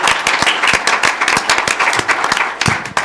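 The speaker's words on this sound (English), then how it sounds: "One more big round of applause" An indoor crowd at a school district board meeting claps loudly and steadily in sustained applause, a dense wash of hand claps.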